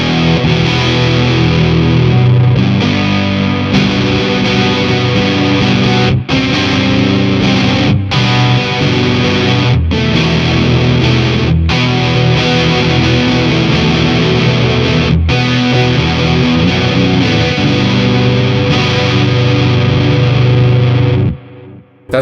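A Squier electric guitar played through a fuzz effect, loud, thick distorted chords sustained for about twenty seconds with a few brief breaks between strums, then cut off abruptly; no talking.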